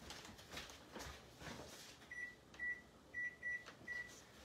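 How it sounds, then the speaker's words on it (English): Kitchen timer being set while cooking, a series of five short, faint electronic beeps in quick succession over quiet room noise. "set my timer for 1 minute."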